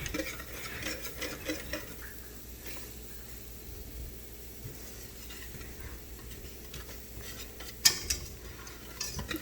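A utensil stirring and scraping the bottom of a pan on the stove, soft repeated scrapes and clinks over a low sizzle, with one sharper knock near the end, no talk.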